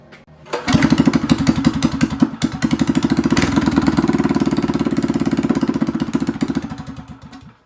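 A Manco Dingo yard kart engine fitted with a street bike muffler starts up and runs loud and close with a rapid, raspy popping exhaust beat that rises and holds steady for several seconds.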